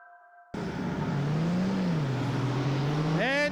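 A stock car at the New Zealand Stockcar Championships at Greenstone Park, Greymouth, races past on the track after a short burst of other sound: a loud, sustained engine roar that shifts in pitch, then revs upward at the end.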